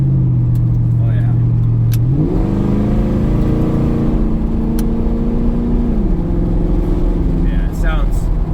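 A car engine fitted with a cheap aftermarket exhaust idles with a loud steady drone, then revs up in two stepped climbs and holds a higher rumble, close by with faint talk.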